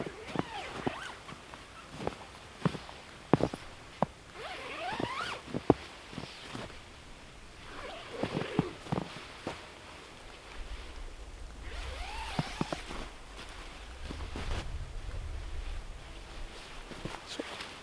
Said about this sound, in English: There's a winter cover stored up inside the end of the hammock that zips on around here